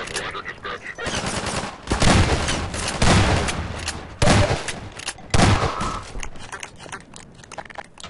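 Submachine gun fire in Half-Life 2, several loud sharp bursts spaced a second or so apart, each a rapid clattering volley, with someone talking faintly between them.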